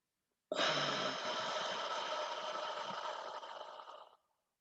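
A single long, slow exhale in an oceanic breathing exercise, a close, breathy rushing whoosh that starts abruptly and fades gradually over about four seconds in otherwise quiet surroundings.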